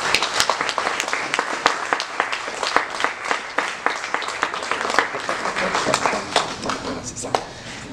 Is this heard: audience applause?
yes